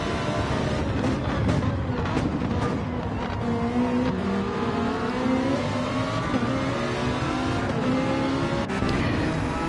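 Race car engines from a GT sprint sim racing game at Sardegna roar steadily and loudly throughout, with several cars' engine notes overlapping, pitches rising and falling through gear changes and some faint tire squeal.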